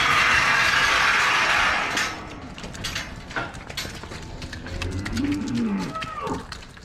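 Cows in a pen on a dairy farm give low, drawn-out moos after an opening burst of broadband noise, with clattering and shuffling around them, moderately close.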